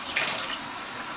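Hot water pours steadily from a kitchen tap, a continuous hissing rush with no break, close by and fairly loud.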